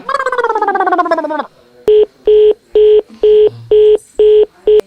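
A voice speaks briefly, then a run of seven evenly spaced telephone dialing tones beeps loudly, one after another.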